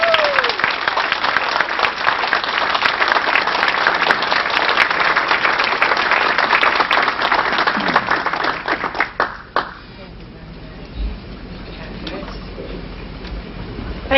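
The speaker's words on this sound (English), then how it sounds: "Thank you very much for that warm applause" Warm applause from guests at a 1991 Los Angeles dinner meeting on investing in Belize, a dense, loud roomful of clapping that keeps going for about nine seconds, then tapers off into quiet room noise with a few scattered claps.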